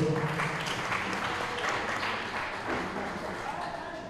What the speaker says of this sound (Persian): تشویق کنید هر دو پایتا رو.